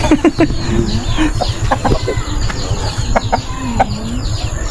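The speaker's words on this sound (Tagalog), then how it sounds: "yung manok namin si Fluffy Bird." A backyard chicken clucks repeatedly at close range, with sharp broken clucks and calls spread over a busy outdoor background, while people talk in the background.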